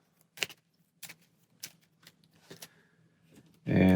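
Cards from the Aeon's End Legacy board game are shuffled by hand: a handful of short, crisp flicks and riffles spaced apart, close and quiet, ending in a louder burst of handling noise.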